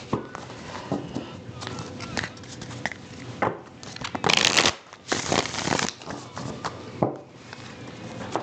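A deck of cards is shuffled by hand in several quick riffling bursts separated by pauses, crisp and close, with one louder, brighter shuffle in the middle.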